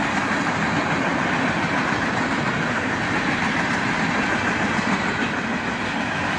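A Herzog ballast train led by four locomotives, an ES40DC, two AC44CWs and an ES44ACH, rolls past with a steady, loud rumble of wheels and engines that holds evenly the whole time.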